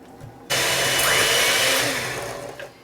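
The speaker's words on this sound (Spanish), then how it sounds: "vamos a batir, como dicen, vamos a empezar a velocidad alta y después a media." An electric mixer beats flan cake batter at high speed, a loud, steady whirring drone that starts abruptly and runs continuously for a couple of seconds before easing off.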